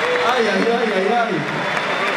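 Crowd applause and cheering fill a rap battle final at a street freestyle event, loud and continuous, with voices shouting over the clapping.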